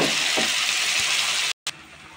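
Mixed vegetables, including potato, eggplant, cauliflower, papaya and pointed gourd, frying in a pan with a dense, even sizzle that cuts out abruptly near the end, then resumes briefly.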